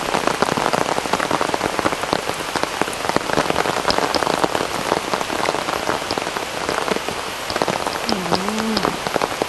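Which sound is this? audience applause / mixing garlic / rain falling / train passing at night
rain falling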